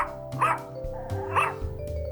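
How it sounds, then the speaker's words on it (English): Dog barks in the visual novel game Knitbone, two clear separate woofs about a second apart, close and fairly loud over a soft background tone. "And Mona, my trusty crime-finding dog."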